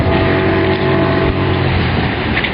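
A Cirus Zenit 50 fishing boat's outboard motor running loud and steady as it makes a turn on the water, a continuous close engine drone with rushing wash.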